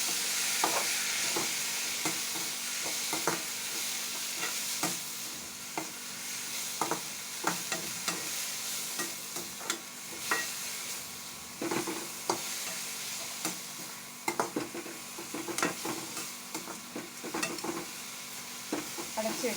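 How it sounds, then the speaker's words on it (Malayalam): Washed banana flower stirred in a frying pan, a continuous soft sizzle broken by repeated scraping stir strokes at an irregular rhythm, close and fairly quiet with no talk. "കഴുകി വെച്ചിരിക്കുന്ന നമ്മുടെ വാഴപ്പൂവ് അതിലോട്ടിടുകയാണ്. അതിട്ട് നന്നായി ഇളക്കിയ ശേഷം"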